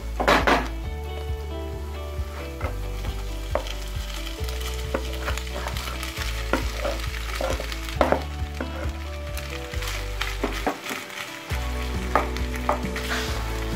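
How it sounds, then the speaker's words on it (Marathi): Vada pav masala fries in a pan with a steady loud sizzle, while a spoon stirs and scrapes against the metal in repeated bursts throughout, close up with no talking. "हे व्यवस्थित फ्राय करायचं आहे मसाला पण कच्चा आहे"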